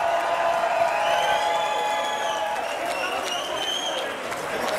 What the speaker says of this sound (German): Habt ihr einen riesen Applaus?